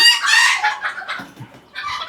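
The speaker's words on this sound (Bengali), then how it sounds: "এটা ভাই হোয়াইট টেল জাপানিজ ব্যান্থাম" A White Tail Japanese Bantam rooster crows loudly and close up, followed by several short clucks and a brief second call, with no talk over it.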